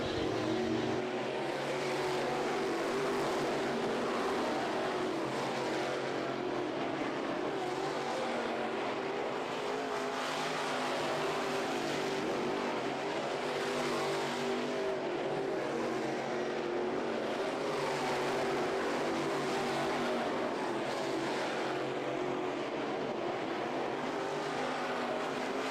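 Race cars at night heats of the Ocala Winternationals at Bubba Raceway Park, engines roaring continuously and loudly as the leading cars pull away, a steady wall of motor noise with no talk.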